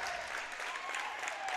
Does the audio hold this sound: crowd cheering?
yes